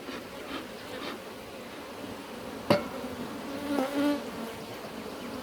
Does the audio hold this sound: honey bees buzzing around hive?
yes